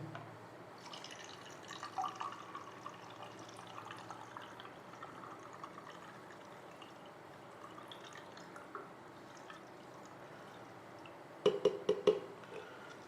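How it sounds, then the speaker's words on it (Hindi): Black and white film developer liquid is poured into a developing tank, a faint, soft liquid trickle at first, then a brief cluster of louder drips and splashes near the end. "अब हम इसको डेवलपर को इस टैंक में डालेंगे"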